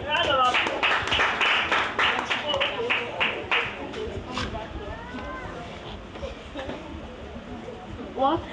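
Brief scattered clapping from a small audience at a book event, loud at first and fading within a few seconds, followed by voices talking.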